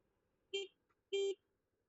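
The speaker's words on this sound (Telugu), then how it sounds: "ఇలా మనం కర్వ్స్ వెళ్ళేటప్పుడు హార్న్ కొట్టుకుంటూ వెళ్ళాలి" A vehicle horn on a motorbike ride along a curvy road toward Srisailam gives two short, clear toots about half a second apart, distinct against a quiet background.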